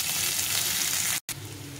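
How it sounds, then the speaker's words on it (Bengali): A bowl of chopped onions frying in a pan gives a loud, continuous hiss and sizzle close by, cut by a brief silence before the frying noise carries on. "পেঁয়াজটা দিয়ে দিলাম। দিয়ে এটাকে ভালো করে ভেজে নিতে হবে।"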